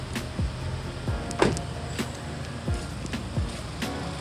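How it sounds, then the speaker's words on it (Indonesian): A 2017 Toyota Kijang Innova G automatic engine idles steadily with a low, even hum, air conditioning on, joined by a few brief clicks and whirring mechanical noises. "Suara mesin Innova yang sangat khas."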